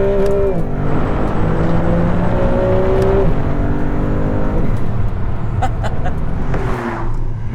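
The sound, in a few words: Alfa Romeo 33 Stradale V6 engine downshifting and accelerating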